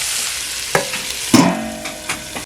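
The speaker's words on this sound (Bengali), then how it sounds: "আমার আলুগুলো ভাজা হয়ে গেছে ভালোভাবে" Potatoes sizzle in a pan for flattened-rice pulao as a spatula scrapes and clanks against the metal, two distinct ringing knocks over a soft steady frying hiss.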